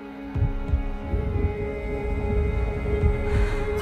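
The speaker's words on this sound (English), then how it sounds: "The heartbeat of the lost ones." Low, deep heartbeat-like throbbing in the Senua's Saga: Hellblade II game trailer, repeating pulses under a dark droning hum, steady and fairly loud with no speech.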